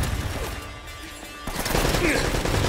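A Gatling gun fires in Uncharted: Drake's Fortune, a dense, continuous rattle of rapid gunfire that swells loud in the second half, with someone talking over it.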